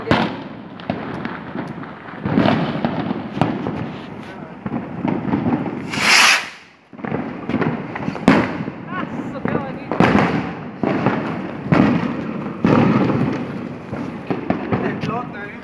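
New Year firecrackers and fireworks go off outdoors, a long series of sharp, loud bangs and crackling pops, some close together and others spaced out, with people talking in the background throughout.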